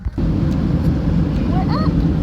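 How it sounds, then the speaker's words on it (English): An airplane cabin fills with a loud, steady low engine roar during takeoff, heard close and constant from inside the aircraft, with a few faint high chirps over it. "We're about to take off."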